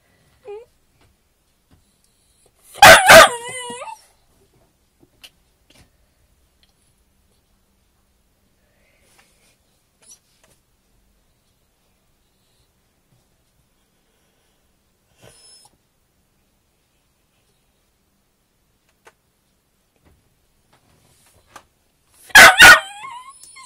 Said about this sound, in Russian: Собачка гуляет.